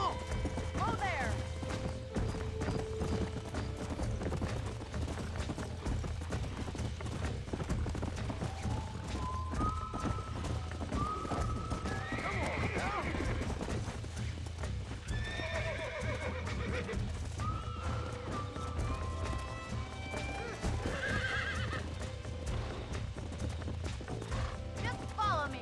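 Horses whinny and neigh repeatedly over a steady clip-clop of galloping hooves in the video game Red Dead Redemption, with game-like effects and voices talking throughout.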